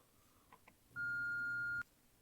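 A voicemail beep from a phone sounds as a single steady electronic tone lasting just under a second, clear against a quiet background and preceded by a couple of faint clicks.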